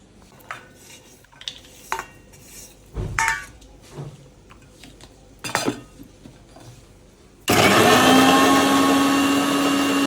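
Kitchen clinks and knocks are heard first, then an electric mixer grinder abruptly starts up for the last few seconds, running loud and steady with a whining drone.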